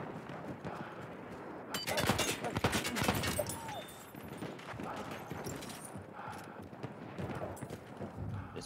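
Pistol gunfire in Battlefield 1 amid a trench battle, a fast volley of sharp shots over a constant noisy wash of battlefield ambience, with distant rumble and clutter continuing after.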